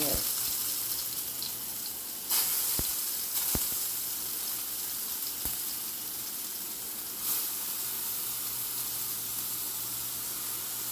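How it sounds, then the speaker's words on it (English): Plant Boss plant-based breakfast sausage crumbles sizzle in a hot pan, giving a steady, moderate hiss with a few sharp clicks and knocks scattered through it. "this is probably going to sizzle a lot"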